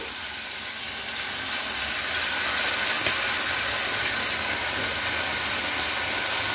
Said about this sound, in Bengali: এবারে আমি পেঁয়াজ আদা রসুনের পেস্টটা দিয়ে দিচ্ছি।